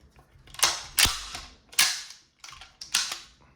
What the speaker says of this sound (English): Now let's do a quick little function test. These are all snap caps.